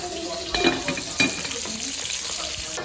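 Food sizzles steadily in hot oil, with a couple of sharper crackles and clinks early on, close and fairly loud.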